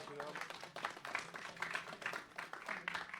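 Audience applause at a Rocket League final's medal ceremony, a steady patter of many hands clapping at moderate distance, with a voice speaking over it.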